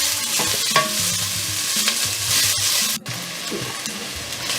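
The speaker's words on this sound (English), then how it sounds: "So I fry my onion for 2 minutes" Onion fries in a pan for a bolognese sauce, a close, steady sizzle broken by scraping and clinking as it is stirred, with one brief dip in the sizzle midway.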